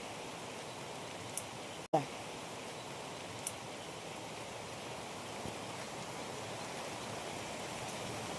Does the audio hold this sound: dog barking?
no